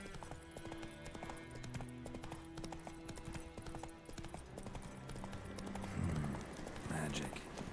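Horse hooves clip-clop at a trotting rhythm in The Witcher 3 video game, layered under game music and a talking voice, growing slightly louder toward the end.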